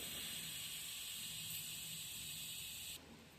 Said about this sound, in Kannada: ಇವಾಗ ವಿಸಿಲ್ ಓಪನ್ ಮಾಡ್ತಾ ಇದ್ದೀವಿ